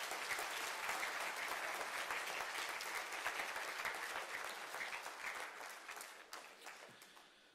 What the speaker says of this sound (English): Let's please give them another huge round of applause.